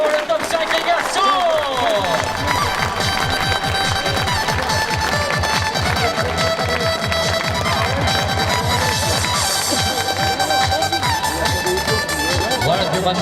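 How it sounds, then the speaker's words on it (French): A crowd at a triathlon prize-giving for the Vouglans Half Ironman claps and cheers in sustained, dense applause that fills the whole clip, while an announcer speaks loudly over it through a PA. "on va retrouver dans quelques instants ces tonnerres d'applaudissements"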